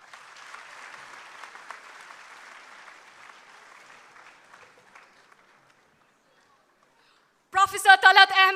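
Moderate crowd applause at a formal ceremony fades out over about five seconds into near silence, then a voice speaks loudly close by.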